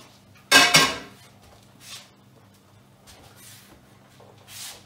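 A big greasy pan clatters during home cooking with potatoes, a short loud metallic clash near the start, then a few faint knocks and rustles.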